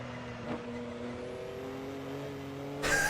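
A Porsche 962 C race car in Assetto Corsa hums at steady engine pitch from the cockpit in a low gear, holding even and moderately loud, with a slight rise and a brief burst of noise at the end.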